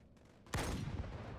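A single sharp sniper rifle shot from Halo multiplayer cracks out of a quiet background and leaves a rolling, decaying tail. It is fairly close and heard alone.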